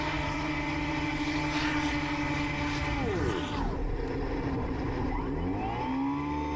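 An RC 3D foam airplane's electric motor and propeller whine loudly and steadily, the pitch sweeping down and then rising again as it switches into full reverse thrust and slows, close and continuous throughout.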